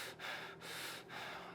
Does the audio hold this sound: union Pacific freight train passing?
no